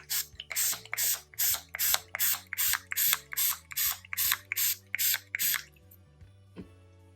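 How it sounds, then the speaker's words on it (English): Rubbing alcohol misted from a spray bottle in about fourteen quick, evenly spaced spritzes, close and crisp, over a low steady hum, made while crafting toy soap. "I'm going to give a generous spritz with rubbing alcohol again."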